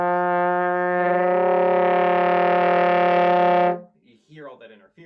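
A sustained wind-instrument multiphonic holds steady for over three seconds, thick with clashing overtones and beating interference, then cuts off into a few brief softer sounds.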